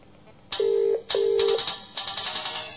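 Star Wars ringtone playing from a mobile phone, two loud sustained electronic tones followed by a rapid pulsing run of bright beeps, close and clear with no talk.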